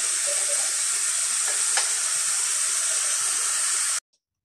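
Fish curry with onion cooking in a pan gives a loud, steady bright hiss and sizzle close by, with one brief scrape partway through, then cutting off abruptly into silence near the end.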